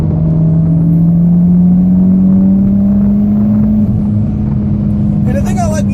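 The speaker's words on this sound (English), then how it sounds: "Exhaust making some sound back there." The engine of a 2014 Mitsubishi Lancer Evolution MR drones steadily at close range, its exhaust pitch rising slowly under acceleration, with a brief voice near the end.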